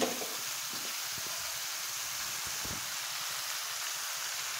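Eggplant, potato and drumstick pieces fry in oil in a pan, a soft, steady sizzle with a few faint stirring taps, fairly quiet and without speech.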